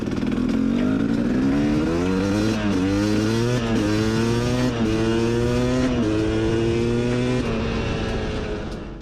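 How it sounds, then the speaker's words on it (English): A two-stroke dirt bike accelerates from first to fifth gear in the power band, its buzzing engine climbing in pitch, dropping briefly at each shift, then rising again, loud and close throughout. "For the third run, I go from 1st gear to 5th gear, riding in the power band as you normally would."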